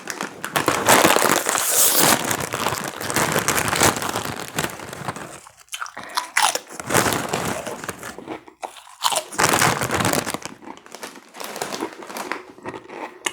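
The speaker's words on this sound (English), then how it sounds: "I also have Cool Ranch Doritos." Cool Ranch Doritos chips crunched close up, loud crisp bites and chewing with crinkling of the bag, coming in bursts separated by short pauses.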